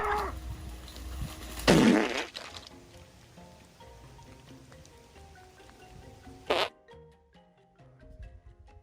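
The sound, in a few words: farts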